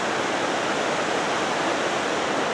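Hedge Creek Falls in a small canyon in Dunsmuir, California, roars in a dense, unbroken rush of falling water, loud and near, with nothing else audible.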